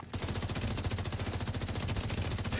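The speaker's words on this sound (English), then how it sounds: "Hostile sniper turret detected. Never a good sound." A hostile sniper turret in The Division fires a fast, steady stream of rapid shots, loud and continuous, with no talk over it.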